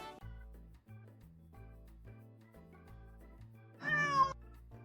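A cat meows repeatedly, a series of close, fairly quiet calls with short gaps between them, ending in a louder, more drawn-out meow.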